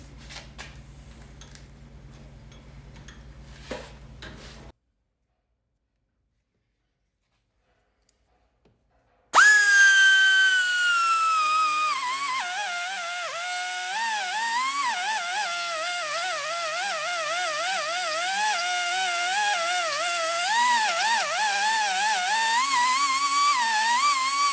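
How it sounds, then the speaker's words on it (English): A small die grinder elongates bolt holes in a steel bracket on a Ford 2N tractor, a loud high whine biting in after a pause and wavering steadily as it cuts, with quieter workshop handling noise before. "I'm going to use the little die grinder here and try to make those holes a little longer"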